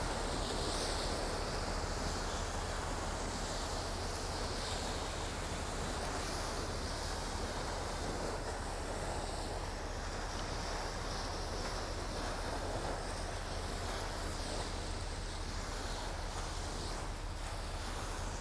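Wake waves from a passing catamaran wash in at Hamburg harbour, a steady broad rushing of surf and water with some wind noise throughout, moderately distant and without talk.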